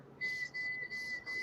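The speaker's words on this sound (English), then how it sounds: "Are you whistling" A person whistles a few short, clear tones in bursts, quiet and alone.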